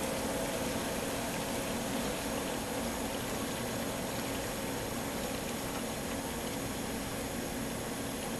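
A steady, loud rush of pumped water raises the level in an abrasive waterjet cutter tank, a constant churning hiss with an engine-like hum underneath and no break for the whole stretch.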